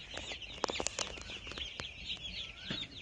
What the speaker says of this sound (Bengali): আজ মুরগিগুলোকে ভুসিতে ছাড়া হলো